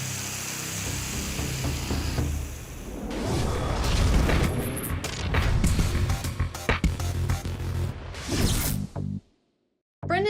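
A washing machine blows apart during an unbalanced spin cycle, a loud booming blast followed by sustained crashing and rattling debris before cutting to near silence at the end.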